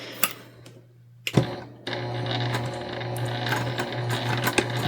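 Sewing machine running steadily as it stitches the interior seam of a small tote bag, a quarter inch in from each edge, after a brief start-stop with a few sharp clicks; close and alone.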